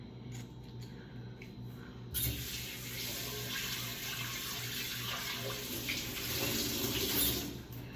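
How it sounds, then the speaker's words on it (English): Tap water running while raw ribs are rinsed in a sink, a steady close splashing gush that starts abruptly after a quieter moment and continues with shifting splatter as the meat is handled under the stream. "Rinse the ribs."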